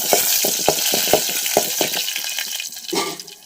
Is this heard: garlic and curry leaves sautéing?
yes